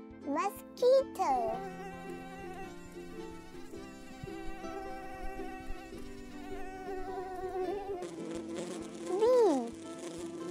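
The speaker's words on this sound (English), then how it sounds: "Mosquito." Thin, whining buzz of a mosquito with a steady high drone, swelling and fading in short passes, mixed with a voice and light musical tones in the background.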